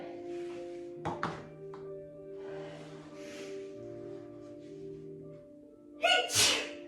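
One sharp sneeze breaks out near the end against a quiet room during a yoga class, after a couple of soft thuds earlier.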